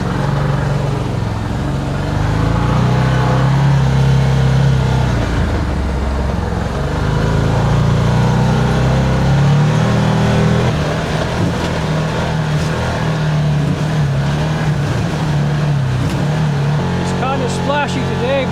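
A side-by-side UTV driving through a filled mud hole in high gear two-wheel drive, its engine roaring loudly and steadily throughout, with a rough, churning rumble as it pushes through the water.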